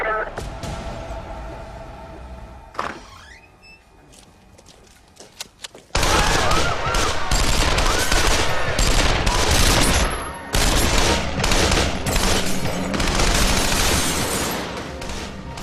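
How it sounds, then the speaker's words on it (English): Sustained bursts of automatic gunfire erupt after a quieter stretch with a voice, the rapid shots hammering loud and dense for about ten seconds during a bank robbery, with a brief pause midway. "The officers outside are stunned to hear automatic gunfire."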